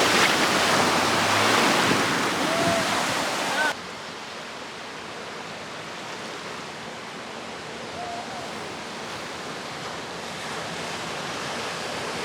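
Off-road vehicle, part of a group trail run in the Ozarks, splashing fast through water: a loud broadband rush of spray for a few seconds that cuts off abruptly, leaving a steadier, quieter wash of water and wind.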